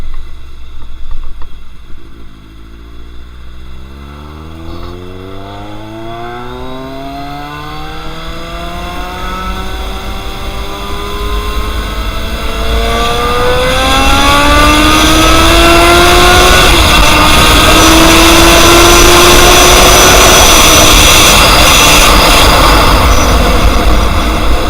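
A BMW K1200 S inline-four sport motorcycle, built 2005 to 2009, revving up steadily, the engine note climbing in pitch and growing louder over the run, with no talk.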